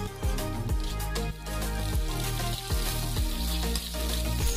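Curry leaves dropped into hot oil with softened shallots for a green leaf curry, a steady close sizzle with rhythmic bursts and thumps of stirring throughout.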